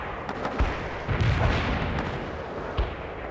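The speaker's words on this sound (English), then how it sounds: "Mortar barrage delivered." Mortar barrage from the World in Conflict video game: a few scattered muffled booms and thuds at a distance, irregularly spaced over a steady low battlefield rumble.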